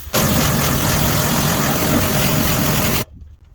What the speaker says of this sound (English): we're going to jet these off